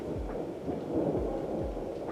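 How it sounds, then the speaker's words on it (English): Low, rolling thunder from a spring storm, with a soft rumble that pulses beneath a steady wash of rain, moderately faint and distant, with no voices. "There's the thunder."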